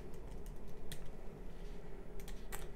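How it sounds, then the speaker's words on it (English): An email address is typed on a computer keyboard, a faint run of quick, irregular key taps over a steady background hum. "I'm going to type in an email here."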